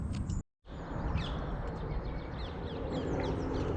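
Parrots call near a château in an abandoned village near Paris, giving repeated squawks and chirps over a steady background rumble, with a brief dropout near the start.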